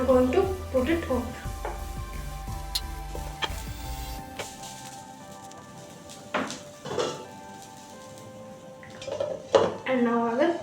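A lid set over a pan of vegetable kodo millet cheela, with metallic clanks and clinks of cookware and utensils, a low rumble early on, then quieter handling, with a voice speaking partway through.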